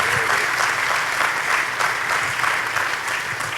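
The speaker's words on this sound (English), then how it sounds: "Can we get a round of applause for the panelists," An audience at a city State of the City event applauds the panelists, a dense, sustained burst of clapping from a crowd filling the room at steady loudness.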